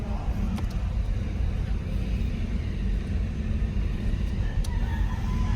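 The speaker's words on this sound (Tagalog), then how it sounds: "So dalan lang natin yung sasakyan para inspection tsaka emission." Car engine idling and rumbling steadily at close range while the vehicle is moved up for LTO inspection and emission testing, a continuous low drone with no talk.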